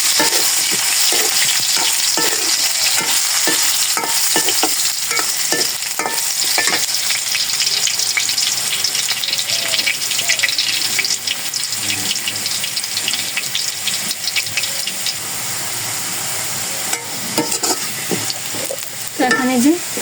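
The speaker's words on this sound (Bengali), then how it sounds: "আলু ভেজে নিচ্ছি" Potatoes sizzle loudly in a hot pan while a spoon stirs them in quick scraping bursts early on, then the frying settles into a continuous hiss, with a few clinks and knocks near the end.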